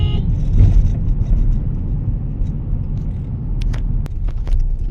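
A Tata Harrier SUV drives in third gear, its engine giving a steady low rumble under road and cabin noise, with a few faint clicks and knocks near the end.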